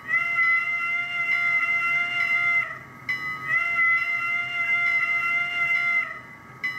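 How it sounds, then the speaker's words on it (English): The whistle from the sound decoder of a Bachmann N scale K4 steam locomotive model sounds as two sustained, fairly loud chime-like blasts of about three seconds each, with a brief break between them. "F2 whistle."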